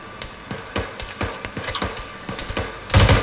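Rapid gunfire in the Arma 3 military game, a Gulf War scenario: sharp, irregular bursts of shots, some close and punchy, others lighter, ending in a louder heavy blast.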